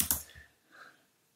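A password is typed on a computer keyboard as a few quick, close key clicks, followed by a fainter tap after a short pause.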